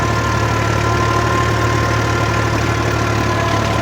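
A tractor engine runs steadily in a red-soil farm field, a loud, continuous low diesel drone with a throbbing hum and no pauses, heard close and alone.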